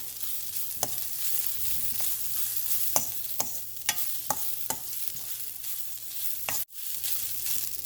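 Garlic leaves stir-fried in a pan give a steady sizzle, with sharp spoon-and-pan scrapes and clinks at irregular intervals. Nobody speaks.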